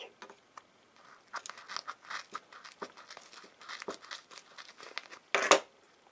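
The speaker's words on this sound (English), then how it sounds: "Let's slice and dice the sandwich or whatever it is." A squishy foam sandwich toy being sliced open, giving soft crinkling, tearing cuts in irregular bursts with a louder crunchy rip near the end, close up and alone.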